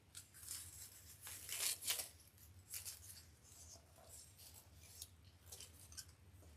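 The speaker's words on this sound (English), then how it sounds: "And I'm going to cut this just a little bit." Scissors snip a few times through lemon wreath material, a handful of quiet, crisp cuts spaced irregularly over a low background hum, close and alone without talk.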